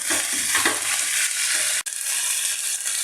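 Fried duck being stirred with belacan in a pan, a steady close sizzle with scraping strokes and one sharp click near the middle.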